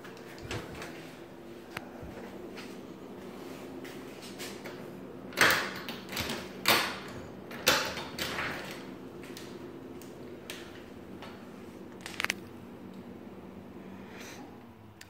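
Sliding closet doors being set back onto their track in a house under repair, giving a run of loud knocks, bumps and scrapes in the middle of the clip over a steady background hum.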